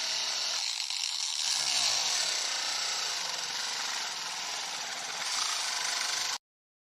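A grinder cuts into and breaks apart a computer mouse, a loud continuous harsh whine that stays steady for about six seconds, with a brief rise in intensity near the end before stopping abruptly.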